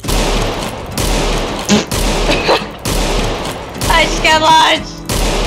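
Rapid gunfire bursts from the Roblox Wild West game, loud and repeated over a steady game backdrop, with a player talking partway through.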